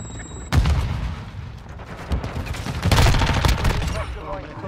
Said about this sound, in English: He shot me with a shotgun, even though I was hip firing from the back.